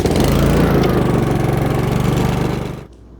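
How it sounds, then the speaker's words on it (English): A Honda HRX217 walk-behind lawn mower with a GCV190 engine runs loud and close with a steady, fast putter, then cuts off abruptly near the end, leaving quiet. "start up the mower and we can get that oil warmed up to do the oil change"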